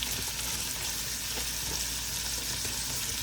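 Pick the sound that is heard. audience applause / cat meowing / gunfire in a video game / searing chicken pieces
searing chicken pieces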